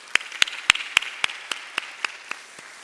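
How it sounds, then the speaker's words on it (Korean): About ten sharp, evenly spaced hand claps in a steady rhythm, close and crisp, gradually getting softer, from a congregation during a Korean Presbyterian church Sunday service in Indianapolis. "우리 뜨겁게 격려의 박수 한번 하겠습니다"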